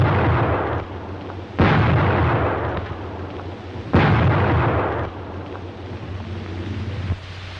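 Grenade explosions on a wartime battlefield: two loud blasts, each a sudden broadband burst that rolls off slowly, set over steady rumbling noise, with further fainter booms between them.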